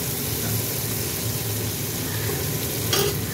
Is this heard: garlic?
yes